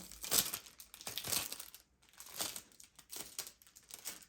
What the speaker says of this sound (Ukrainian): І тепер ми знімаємо скотч